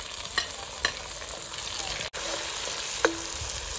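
Green chilies added to onions already browned golden in a pan, a soft steady sizzle with a few sharp stirring clicks and a clink near the end, fairly quiet and with no talk.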